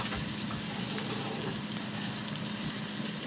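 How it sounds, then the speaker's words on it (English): Sweet potatoes frying in a home fryer, a steady close sizzle with dense crackling bubbling held at an even level throughout, no voices. "Also into my fryer, I have my sweet potatoes already"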